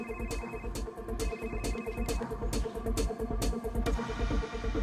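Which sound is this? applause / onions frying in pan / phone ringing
phone ringing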